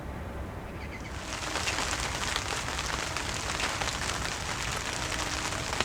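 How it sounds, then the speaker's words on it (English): Heavy rain pours down while fishing in Italy. After a quieter first second, a dense, steady hiss of rain on surfaces comes in close and loud and keeps up throughout, with no talk. "the heavens opened and we had a couple of days of really heavy rain"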